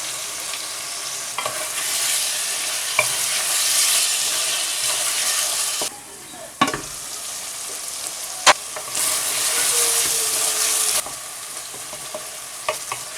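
Four chopped tomatoes fry in a pan for keema with potatoes and peas, giving a loud, steady sizzle broken by a short quieter gap and a few sharp clicks of stirring.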